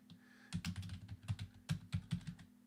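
Keystrokes on a PC keyboard come in quick bursts, about a dozen close, crisp clicks in uneven clusters, typing out a command over a faint steady hum, with no voices.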